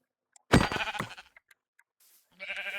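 Minecraft sheep bleating in the game, one loud wavering bleat followed by a few faint clicks and a second bleat near the end.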